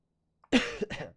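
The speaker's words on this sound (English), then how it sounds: "Coughing." A person coughs a few times close up, a short harsh burst followed by a second, weaker cough after a brief gap, against silence.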